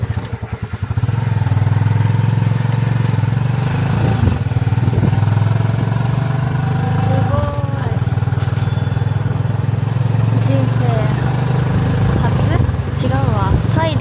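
A motorcycle-drawn tuk-tuk in Siem Reap, Cambodia, drones with a steady close engine rumble throughout. Passengers talk over it, and a few brief rattles and a bell-like ding cut through.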